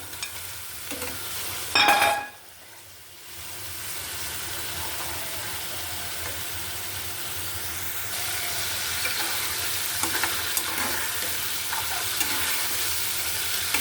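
Fried eggs added to garam masala in a hot pan, a sharp clatter and splash at first, then a steady, loud frying hiss that intensifies and carries on with faint stirring scrapes, no talking.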